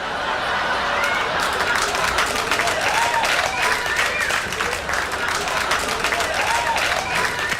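Audience applause with scattered laughter and crowd noise during a livestreamed concert, a steady loud wash of clapping that holds for several seconds with faint tonal sounds rising above it.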